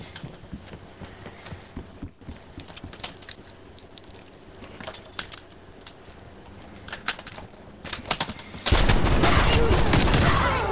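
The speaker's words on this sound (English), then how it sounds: "I shotgunned you in the ribs, and it didn't kill you" Shotgun blasts and other weapon fire in Call of Duty: Black Ops Cold War ring out as sharp irregular bangs and clicks, followed by a sudden loud burst of continuous noise near the end.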